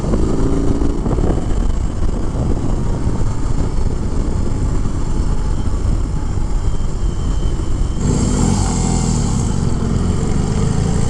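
Engine of a 2021 BMW R 18 cruiser with its 1800 cc boxer twin, heard while riding: a loud, steady roar mixed with wind rush that runs the whole time, with a brief shift in tone partway through.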